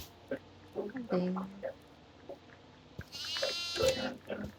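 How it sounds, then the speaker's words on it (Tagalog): Goat bleating in a farmhouse cellar inside the horror video game Devour, several wavering bleats amid game ambience, with people talking over it. "May kambing dito sa cellar."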